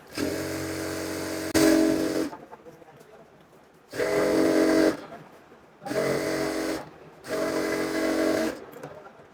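Sewing machine stitching petticoat panels together in four separate bursts of steady mechanical whirring, each one to two seconds long, with short pauses between them and no talking.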